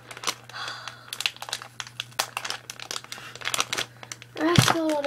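A plastic blind bag packet of Moshi Monsters toys is crinkled and pulled at while being opened, producing close, irregular crackling rustles, with someone speaking over it.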